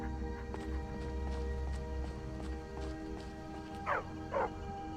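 A dog in VR Skyrim gives two short, fairly loud barks near the end, heard against a faint, steady game ambience.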